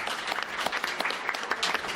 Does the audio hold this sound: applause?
yes